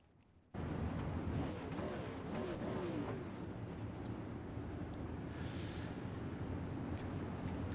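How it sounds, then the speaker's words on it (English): Engine roar of pace trucks circling a dirt oval during a Super Late Model invitational at Peoria, starting abruptly after a quiet moment and holding as a steady, fairly loud rumble with a crowd-like wash beneath. "Pace trucks out on the track right now."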